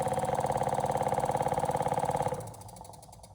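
A DC motor running steadily with a rhythmic pulsing hum, then stopping abruptly once its supply is removed and its terminals are shorted for dynamic braking, leaving a faint fading whir.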